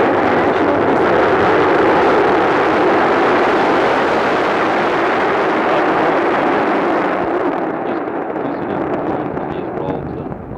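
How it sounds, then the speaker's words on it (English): Space Shuttle Columbia lifts off on its engines, a massive continuous rumbling roar that stays loud and broad throughout, easing slightly toward the end. "We have ignition and liftoff of Columbia on an ambitious 10-day international research"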